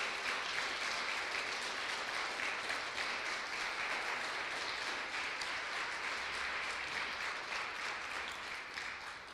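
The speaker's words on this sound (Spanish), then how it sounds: "Dale un fuerte aplauso a nuestro Señor Jesucristo." A church congregation applauds in a steady, dense wash of clapping that holds for several seconds. It is moderately loud, a little distant, and fades slightly at the end.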